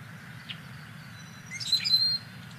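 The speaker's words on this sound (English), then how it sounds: "the sound that the bird makes as part of its song also reminds a lot of birders of the swinging of a rusty gate" A Rusty Blackbird gives a faint, squeaky song reminiscent of a swinging rusty gate, a short creaking burst after a single thin note, heard at some distance over a steady low background hum.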